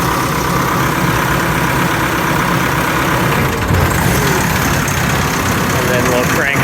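A trommel compost screener with a stacker runs at low revs as its belts start, a loud, steady engine drone with mechanical rattle throughout, and a voice speaks over it.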